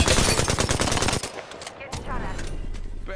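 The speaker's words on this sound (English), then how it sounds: "Getting shot at." Heavy video game gunfire from a shooter match, a loud rapid burst of automatic shots up front, then scattered single shots and game effects while a voice talks quietly.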